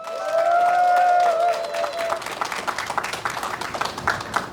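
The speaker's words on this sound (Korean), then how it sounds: "뜨거운 박수 부탁드리겠습니다" An outdoor crowd at a rally against a waste incinerator in Suncheon breaks into applause. A voice is heard briefly first, then irregular clapping follows, moderately loud and close.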